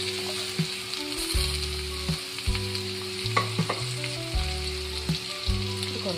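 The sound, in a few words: chopped lemon added and frying in pan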